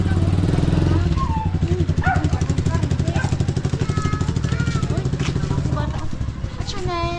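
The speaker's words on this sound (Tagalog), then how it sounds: "Oh, patabi lang. Kaya may motor." A motorcycle engine runs steadily close by on a residential street in a housing area in Koronadal City, its throbbing pulses continuing under people talking and a dog barking.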